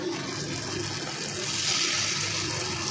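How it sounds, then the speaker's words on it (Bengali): Water poured into a pan of Bengali pomfret fish curry (pabda/parshe jhal), a steady rushing pour with broad splashy hiss lasting the full stretch, close and fairly loud, no talking. "এবার একটু জল দিয়ে দিতে হবে তার মধ্যে"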